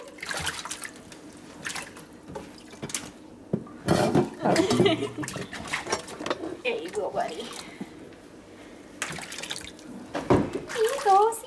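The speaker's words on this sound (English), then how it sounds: "I'm just nicely bathing him." A puppy getting a bath in water, with splashing, sloshing and dripping sounds coming in bursts, close up, under a man's gentle, coaxing talk.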